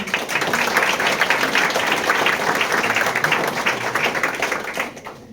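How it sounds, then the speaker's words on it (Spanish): An audience at a university graduate-program panel gives a round of applause, dense clapping that stays fairly steady before thinning and fading out in the last second. "Brindémosles también un fuerte aplauso."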